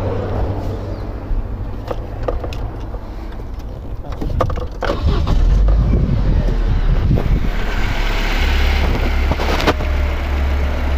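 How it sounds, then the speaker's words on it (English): A 2002 Saturn SL2 with a 1.9 l engine cranks and catches partway through, then runs at a steady low idle, with wind noise buffeting the microphone. "Now it wants me to start the engine."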